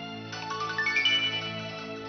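A mobile phone rings for an incoming call with a short melodic ringtone of rising chiming notes, clear and close, with no other sound.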